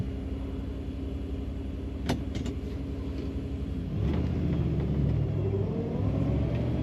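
A 1957 Chevrolet Bel Air four-door hardtop with a fuel-injected engine and three-on-the-tree manual gearbox drives on the highway, giving a steady low engine rumble that rises in tone partway through as it pulls ahead.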